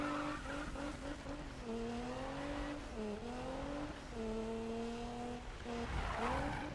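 Car doing donuts in the Need for Speed video game, tires squealing in long wavering skids over a steady engine drone, several sweeping passes with rising and falling pitch, loud and continuous.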